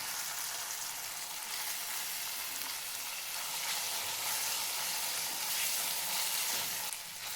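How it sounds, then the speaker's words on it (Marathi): Onion and tomatoes fry in oil for a cauliflower curry, giving a steady, close, crackling sizzle that runs without a break and has no talk over it. "पाच मिनिट तेलामध्ये भाजून घ्यायचे."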